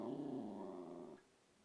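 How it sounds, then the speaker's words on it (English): A dog growls in the background, a low, continuous rumbling growl of moderate volume that lasts about a second before cutting off. "Please excuse my dog barking in the background."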